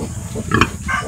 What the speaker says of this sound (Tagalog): Ganyan po ay tinatawag na po niya yung kanyang mga biik isa't isa.